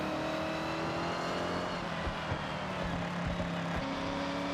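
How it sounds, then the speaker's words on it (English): A supercharged GMC Jimmy engine in Forza Horizon drones steadily at high revs, with a sustained whine and a few short gear-change dips, loud and close. "That's the supercharger spinning up."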